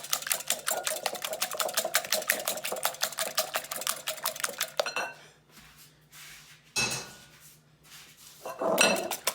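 Melted butter being whisked into two jumbo eggs in a bowl: about five seconds of rapid, steady, clicking strokes up close, then a few softer clinks and scrapes with pauses.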